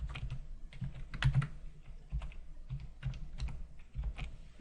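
Keystrokes on a computer keyboard while C code is typed, irregular bursts of close, clicky taps with short pauses between runs, no voices.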